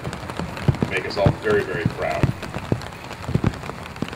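Rain patters on surfaces at an outdoor Veterans Day ceremony on a lawn, faint scattered drops under someone speaking through a loudspeaker.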